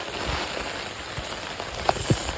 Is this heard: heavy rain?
yes